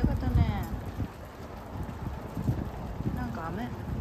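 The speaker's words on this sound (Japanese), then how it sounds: "なんか雨。" Steady rain falling outside during an Arizona evening, a broad hissing wash mixed with wind buffeting the microphone, with people talking over it.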